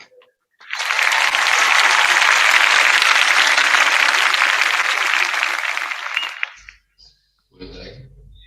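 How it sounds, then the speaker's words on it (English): A full audience gives a big round of applause for an elementary school at an international education award ceremony, loud sustained clapping that rises quickly, holds for several seconds, then fades out, followed by a brief soft noise. "Please give a big round of applause to Sabilina Elementary School"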